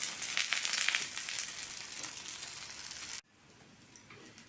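Wheat flour roti cooks in oil on a pan with a steady, close sizzling hiss that runs unbroken for about three seconds, then cuts off to near quiet.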